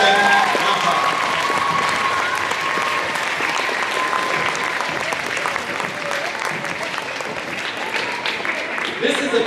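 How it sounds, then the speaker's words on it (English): An audience claps for teachers at a school rally and awards ceremony, a dense, sustained wash of applause with crowd noise and a few voices mixed in throughout. "let's just give all of our teachers a round of applause"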